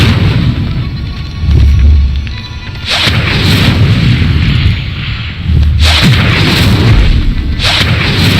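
Incendio fire spells cast in Hogwarts Legacy, several loud whooshing blasts in quick succession, each a sharp burst of flame that flares and fades amid booming combat noise.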